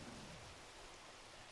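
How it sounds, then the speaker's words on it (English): Heavy rain in the video game Zelda: Breath of the Wild pours down as a dense, steady, very faint hiss, unbroken and without talk. "Rain falls down twice as hard."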